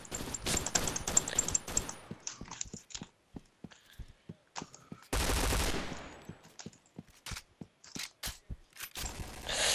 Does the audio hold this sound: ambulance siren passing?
no